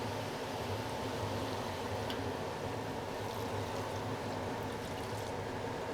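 Cornstarch slurry is poured into a hot pan of seafood pan-fried noodles with crispy vegetables, giving a steady hissing sizzle and soft liquid rush that holds evenly throughout, with no talking.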